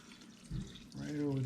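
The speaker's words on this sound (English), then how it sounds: "Just pour that right over the top." Homemade beef stock poured from a container over a white-tailed deer roast with onions and soups in a slow cooker, a gurgling stream of liquid that builds and splashes, with a voice speaking briefly.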